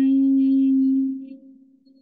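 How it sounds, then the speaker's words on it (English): Humming bee breath during a yoga session: a single steady, low, buzzing hum sustained on an exhale, strong at first and then fading gradually over about two seconds, with no talking. "while breathing out, making the humming bee sound."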